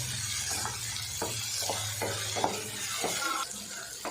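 Eggplant sautéing in a pan, a soft continuous sizzle with a run of regular stirring scrapes, one after another, close by.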